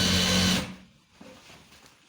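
Sewing machine stitching the side seam of police uniform trousers, a loud steady mechanical whir for about half a second that then cuts off into quiet handling noise.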